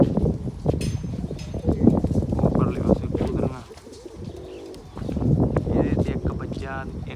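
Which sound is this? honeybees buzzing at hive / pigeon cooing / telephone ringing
pigeon cooing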